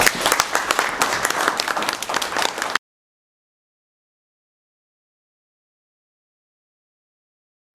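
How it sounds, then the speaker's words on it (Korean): Audience applause welcoming a speaker to the podium at a Korean-American business friendship forum, crisp dense clapping from a seated crowd for under three seconds, then cut to silence. "큰 박수로 환영해 주시기 바랍니다."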